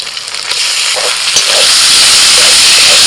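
Chicken mince hits a hot pan with garlic, ginger and green chilli, giving a loud, steady hiss that swells after the first second and holds; no one speaks.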